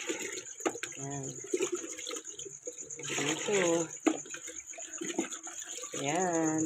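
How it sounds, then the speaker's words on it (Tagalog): Evening tap water runs steadily from a household faucet in a continuous close hiss while a person talks over it in short phrases. "Kasi yung gripo namin dito, pang gabi lang."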